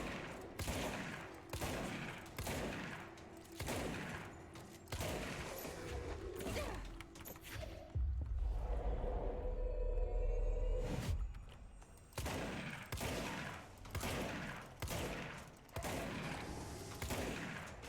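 Rapid bursts of gunfire from the game Control repeat steadily, punctuated by a deep rumbling blast midway, with no talking over it.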